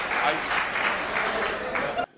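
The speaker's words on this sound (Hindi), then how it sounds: "एक बार हाथ उठा के ताली बजा के बुला लो आप दोनों लोग" An audience at a comedy poetry gathering claps steadily for about two seconds before the applause cuts off abruptly.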